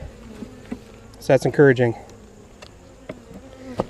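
Honeybees buzz steadily around an opened hive during a late-September inspection, a close, loud swell of wingbeat drone in the middle with scattered faint buzzing and light handling noises around it, and someone speaking briefly.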